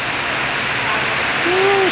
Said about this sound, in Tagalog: Biglang umulan ng malakas.